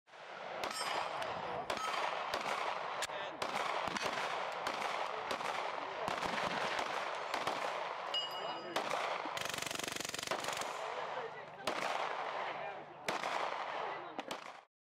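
Rapid gunfire from ZRODelta Z9 modular pistols and a SubZero 9mm PDW carbine on an outdoor shooting range day, many sharp overlapping shots cracking continuously at close to mid distance, with faint voices underneath.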